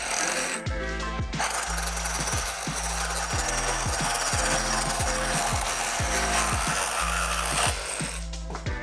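A Craftsman reciprocating saw cuts through wood with a loud, rapid rhythmic rasping of the blade stroking back and forth, starting abruptly and stopping near the end, heard alone.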